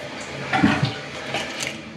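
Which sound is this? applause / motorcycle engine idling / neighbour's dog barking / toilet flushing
toilet flushing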